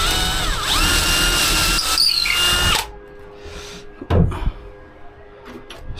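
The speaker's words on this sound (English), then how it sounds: "Let's pre-drill." A power drill whines loudly for about three seconds as it pre-drills into wood for a treehouse, then stops, followed by a few clunks and handling noises.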